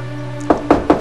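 Three sharp knocks on a door in a steady rhythm, loud and close, after a low background hum.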